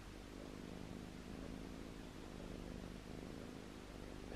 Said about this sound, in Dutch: Ik weet niet of jullie dit kunnen horen, maar Oreo die spint zo hard